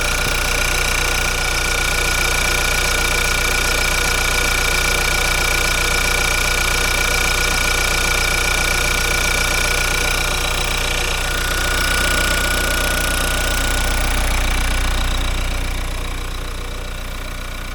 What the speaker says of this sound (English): there is a hissing sound that comes from the left side of the engine